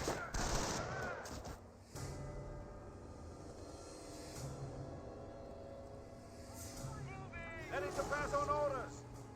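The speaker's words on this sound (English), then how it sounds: "Rifle squad's firing away." Rifle squad gunfire in the strategy game Company of Heroes 1 crackles in bursts, mixed with a dense battlefield din and tonal game music.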